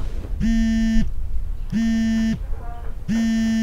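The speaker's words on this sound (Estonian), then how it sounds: "See oli hoopis mu äratus." An alarm clock going off with a loud, steady electronic buzzing tone in three long bursts separated by short pauses, close and dominant.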